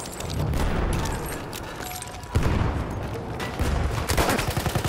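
M1907 submachine gun fire in a first-person shooter video game, continuous dense bursts of automatic shots filling the whole stretch, loud and close, with a sharper rattling volley near the end.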